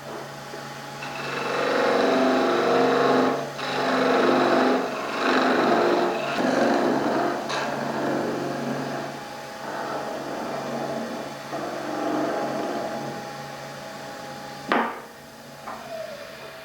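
A skew chisel cuts a wooden tool handle spinning on a lathe, giving a steady close scraping and hissing with repeated pulses as the tool passes, a sharp knock near the end, and no talk.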